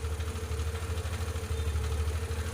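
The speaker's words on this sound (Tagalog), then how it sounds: "ingay na yung makina niya" A car engine with its tensioner cover missing idles noisily, a steady low rhythmic throb with a faint mechanical rattle, close up with no voices.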